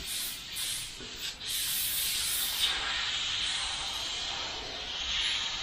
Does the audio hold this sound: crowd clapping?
no